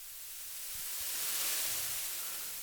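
A custom white noise sweep for drum and bass swells as a broad hiss, rising gradually in brightness and loudness, then easing slightly, with faint low thumps underneath.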